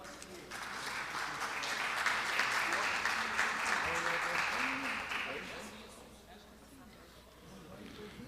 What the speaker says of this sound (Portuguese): pedir uma salva de palmas pelos 50 anos desse Hospital São Julián